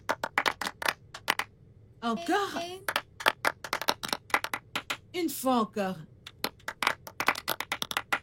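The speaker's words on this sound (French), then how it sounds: "Un tonnerre d'applaudissements pour tout le monde." Scattered handclaps ring out in a classroom, sharp and uneven in rhythm, running through the whole stretch and pausing twice while a voice speaks.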